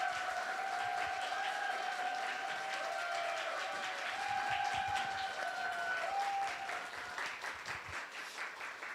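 An audience at a book concert applauds to welcome the missionary author, a sustained, fairly distant wash of clapping with a faint tonal hum running through it, tapering slightly near the end.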